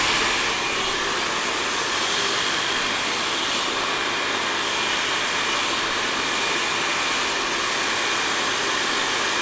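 A hair dryer running on medium heat and medium speed, a steady broadband whooshing roar of airflow with a faint motor hum, constant and unbroken throughout.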